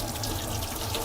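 Tap water runs steadily from a kitchen faucet as a cook rinses their hands while making chicken with okra, a continuous close hiss of flowing water.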